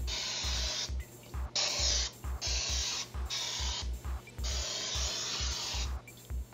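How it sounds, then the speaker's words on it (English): Repeated short hissing bursts from an aerosol cooking spray can onto a bundt pan, spraying in quick irregular pulses with a clicking nozzle between them, close and clear. "Next, you want to take a bundt pan and some cooking spray and spray the bundt pan."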